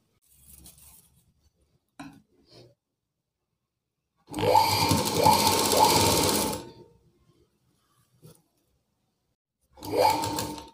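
An electric sewing machine stitches lace onto a blouse neckline in two bursts, a longer run of rapid whirring needle strokes and then a short one, with quiet handling taps between them.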